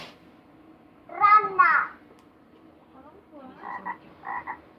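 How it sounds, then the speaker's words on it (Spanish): A frog croaking sound comes in two short bursts, the first a raspy croak and the second a pair of quick lower croaks, with quiet background between them and no speech. "¿La rana cómo hace?"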